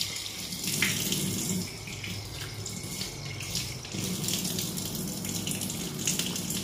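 Water poured into a container holding fish, a steady running, splashing flow with small bubbling and dripping sounds, moderately close, continuing without pause and with no talking.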